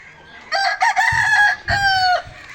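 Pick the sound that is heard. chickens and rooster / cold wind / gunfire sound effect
chickens and rooster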